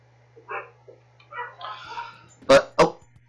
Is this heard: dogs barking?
yes